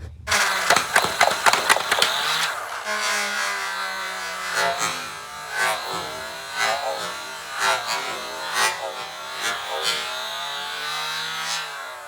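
A Nerf Hyperfire Elite toy blaster firing darts on full auto: a fast burst of sharp mechanical clacks at the start, then a steady whirring, rubbing motor drone with irregular rattles and clicks for several seconds.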